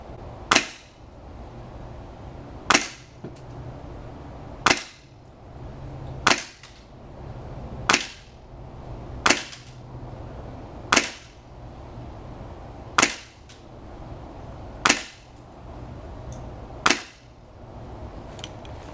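A Polarstar airsoft gun run at 100 PSI fires about ten sharp, loud shots alone at a steady pace, roughly one every two seconds, each a crisp crack with a quick decay.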